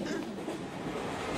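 A passenger train running on rails, heard from inside as a steady dense rumble and rattle at a constant moderate level, with faint voices in the background.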